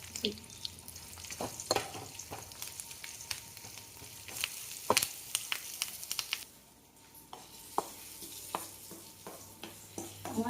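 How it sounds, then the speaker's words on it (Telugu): Tempering spices crackle and pop in hot oil for a tomato chutney, sharp irregular bursts over a soft sizzle, close up, with a short quieter stretch in the middle. "పచ్చళ్ళలో పోపు వేస్తాను."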